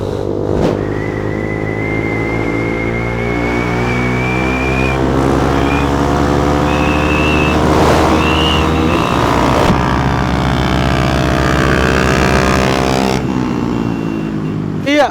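A Bajaj NS400Z motorcycle with an aftermarket exhaust revs loudly nearby, its engine note rising and holding at high revs in long sustained pulls before dropping back, with a voice briefly over it.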